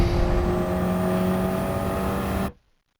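KTM X-Bow race car in a racing video game accelerating hard down a dry straight, a loud steady engine drone holding for over two seconds before cutting off abruptly.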